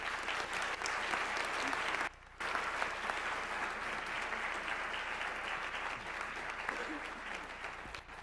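Sustained applause from an audience at a high school National Honor Society ceremony, a steady wash of clapping for student speakers with a brief dip partway through.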